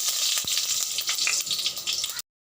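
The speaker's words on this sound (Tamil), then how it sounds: "எண்ணெய் காஞ்சதும் கடுகு போடணும்" Mustard seeds sputtering in hot oil in a kadai, a close, crackling sizzle with small popping bursts and one sharp tap, ending abruptly in silence.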